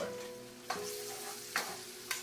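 Garlic sautés in warm oil in a wok for chicken afritada, a faint steady sizzle broken by three distinct stirring scrapes at uneven intervals, with no talk.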